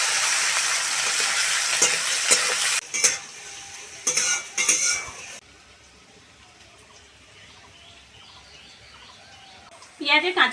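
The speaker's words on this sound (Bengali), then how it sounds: "কুচনো পেঁয়াজ দিয়ে দেবো" Chopped onion fries in oil with panch phoron, dried red chilli and bay leaf, giving a bright sizzle broken by bursts of stirring and utensil clatter. The sound then falls to a quiet simmer before flaring up again at the end.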